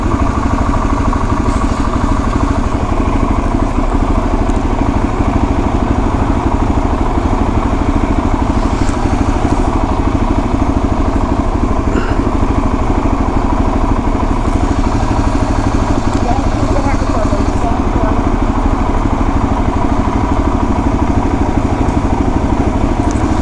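A Suzuki DRZ 400 dual-sport motorcycle engine drones steadily throughout while riding on smooth, level roads, with a constant dense rumble and wind noise and no speech.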